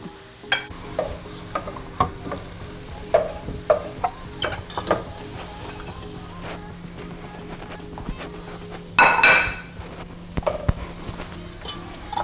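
Shrimp cooking down in a pan for Cajun shrimp and grits give off a steady low sizzle with scattered clicks and stirring scrapes, and one louder burst of frying near the end; no one speaks.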